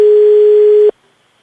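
A loud, steady telephone tone on an outgoing radio station call, held for just under a second before cutting off into near silence.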